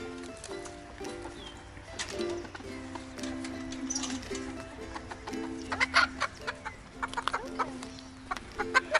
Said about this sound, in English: you can see that rooster